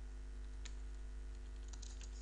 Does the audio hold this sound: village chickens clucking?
no